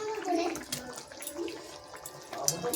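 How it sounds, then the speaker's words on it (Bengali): Water pours into a cooking pan on a gas stove before fish is added, a gurgling, splashy rush heard up close with a voice faintly present. "জল দিয়ে দিলাম"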